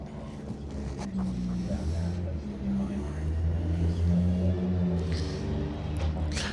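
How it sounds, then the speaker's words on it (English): A rally car on a circuit stage at Donington is heard from a distance, its engine note rising and falling with revs under the steady murmur of nearby spectators talking. "Listening for the engine note in the distance as it heads down to the Melbourne Loop here."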